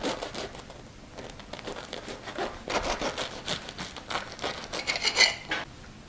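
A small piece of hot, freshly toasted buttered garlic bread being cut at a home kitchen table: soft crinkly rubbing and sawing strokes repeating over several seconds, close and moderately quiet.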